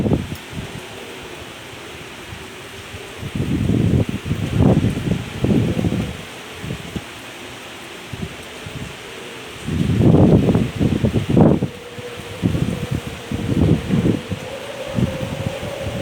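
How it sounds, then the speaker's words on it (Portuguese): Strong wind in Manaus rustles through leaves in gusty surges that rise and fade, with quieter calm stretches between the louder bursts. "Tá ouvindo o barulho do vento?"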